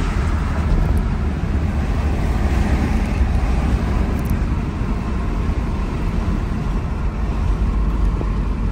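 1989 Mazda B2600i 4x4 pickup cruising in fourth gear, a steady broadband rumble of engine and road noise, constant in level with no talk over it.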